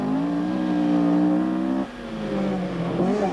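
A Cosworth rally car on a loose-surface stage at Lurgan Park roars loudly at high revs nearby, then drops pitch sharply as it shifts or lifts, and climbs again.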